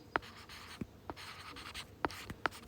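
Chalk or pen writing on a board during a Hindi literature class, heard as faint scratchy strokes with a few sharp taps at irregular intervals, quiet and close.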